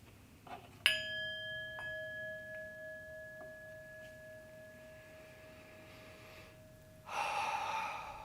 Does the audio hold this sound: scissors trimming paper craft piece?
no